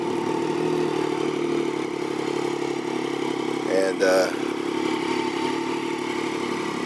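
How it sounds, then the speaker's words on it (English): A 2006 Triumph Daytona 675 three-cylinder motorcycle idles steadily after a cold start, with a low, even engine drone close by and a brief clattering burst midway. Someone speaks briefly over it. "It got a very unique sound, especially with the 3-cylinder engine"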